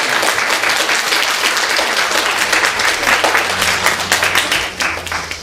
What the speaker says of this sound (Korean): 다 같이 우리 박수로 축하하겠습니다